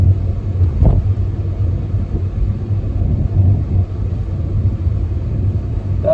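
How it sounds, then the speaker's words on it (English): A car cruising steadily at 30 mph on cruise control along a suburban road near Uxbridge, with a continuous low engine and road rumble throughout and a brief louder whoosh early on. "Now I'm going to set my car to 30 miles an hour"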